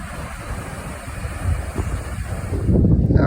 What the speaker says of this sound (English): Kind of a windy day with a good bit of wave action.